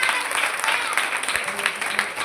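A crowd at a religious discourse gathering applauds in a brisk, continuous wash of clapping, fairly close and loud, with faint voices underneath.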